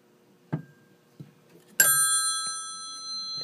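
An older Western Electric telephone bell is tapped with a few dull knocks, then struck once, ringing out with a bright metallic tone that sustains and slowly fades.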